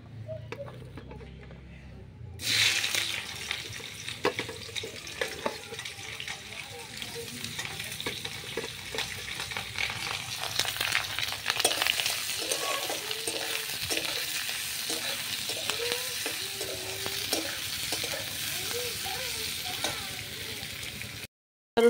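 Chopped onion drops into hot oil with dried chilli and bay leaf, tempering spices for mung dal. A sudden loud sizzle starts and then keeps a steady, crackling hiss with occasional stirring scrapes.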